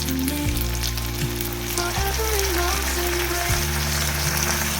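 Chicken Manchurian sauce with vinegar just added sizzles and fries loudly and steadily in a hot pan, a continuous crackling hiss with low humming tones underneath and no voices.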